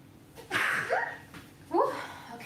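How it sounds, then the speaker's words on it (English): A single close sneeze bursts out with a sharp intake and release, followed by breathy exhales, recorded near and fairly quiet. "That felt really good. That's a good sneeze."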